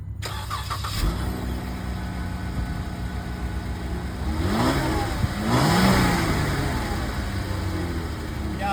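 The stock exhaust of a Jeep Wrangler idles steadily and close, then revs twice with rising engine swells before settling back to idle, with no talking.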